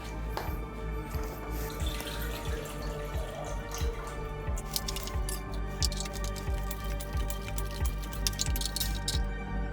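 Water sloshes and trickles inside a small film developing tank during a final wash, with soft rhythmic pulses and drips repeating steadily, close by and moderately quiet.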